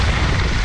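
Loud, rumbling wind buffets the microphone at the top of a ski ridge at Kirkwood, a brief, constant roar with no voices.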